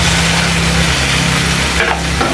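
Potatoes and tomatoes frying in a pan for saag aalu, a steady close sizzle with a faint hum underneath and a brief scrape of stirring near the end.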